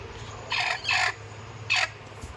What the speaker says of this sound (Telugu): ఇది మా నల్ల కోడి